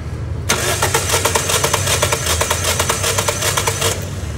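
A car engine cranks during a wet compression test after extra engine oil is added, a steady, loud, rhythmic churning of the starter that runs for about three and a half seconds without catching, then stops abruptly.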